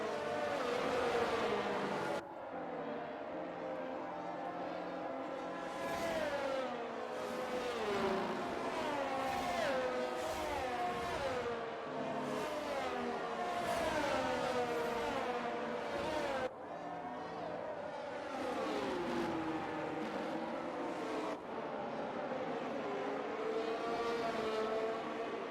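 In the F1 22 video game, race cars weave to warm their tyres before a Brazil sprint start, several engines whining and rising and falling in pitch, overlapping at mid distance in a continuous drone.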